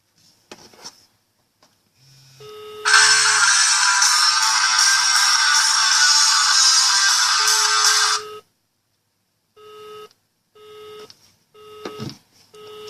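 An electronic phone ring from a Nokia 9110 plays loudly and steadily for several seconds, preceded and followed by short keypad beeps, with no talking.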